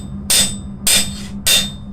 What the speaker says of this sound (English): So they flip it over, and they start hammering again.